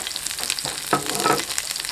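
Small chopped onions hit hot coconut oil with mustard seeds, setting off a loud, busy sizzle and crackle that swells midway with spattering pops and keeps hissing close up, with no voices.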